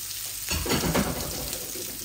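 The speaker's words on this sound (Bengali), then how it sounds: "এই আমি ডিমগুলা ভেজে নিচ্ছি" Eggs fry in a pan with turmeric and salt; a quiet hiss swells into a louder, crackling sizzle midway, then settles into a steady frying sound.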